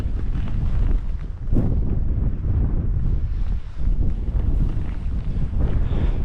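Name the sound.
wind blowing at a wild camp by a Lake District tarn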